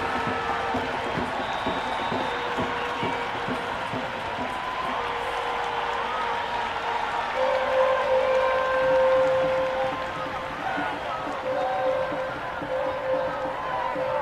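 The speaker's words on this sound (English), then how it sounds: "The crowd are loving it." Cricket stadium crowd at an IPL match between Royal Challengers Bengaluru and Kolkata Knight Riders, roaring and cheering after a six. A steady, dense wash of crowd noise holds throughout, swelling slightly midway, with a commentator talking over it.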